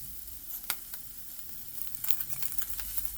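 Beef sears in a hot pan, a soft, faint sizzle with scattered pops and a few light scraping or handling clicks, no voices.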